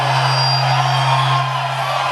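Large rally crowd in Norcross, Georgia, at a Donald Trump campaign event, cheering and whooping in a loud, steady roar under a constant low hum.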